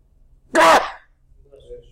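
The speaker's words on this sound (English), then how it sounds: "goodness gracious, I got to sneeze" One sharp, loud sneeze bursts out close by during a math lecture after a moment of quiet, followed by a faint murmur.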